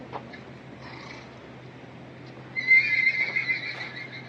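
A horse neighs loudly partway through, a shrill, wavering whinny rising over a quiet background hum and faint shuffling.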